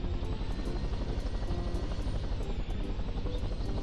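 An aircraft in a video game gives a steady, loud, rhythmic rotor-like chopping drone with faint clicking over the top, continuous with no voices heard.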